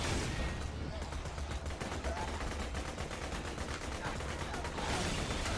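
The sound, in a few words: gunfire from the video game Borderlands 2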